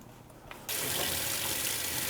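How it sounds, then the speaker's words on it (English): Ice water gushes steadily from a tap into a small pot for smoking salmon, starting abruptly after a brief quiet moment and then running loud and continuous. "I need 23 ounces of ice water for the small pot."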